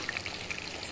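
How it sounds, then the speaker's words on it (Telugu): Fish deep frying in hot oil, a steady close sizzle with dense crackling bubbles throughout, no talking. "చూడండి బాగా డీప్ ఫ్రై అవుతున్నాయి."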